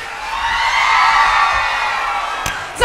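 A crowd at a junior high school band concert screams and cheers loudly in a dense, continuous roar that swells and then eases, with high whoops and children's shouts.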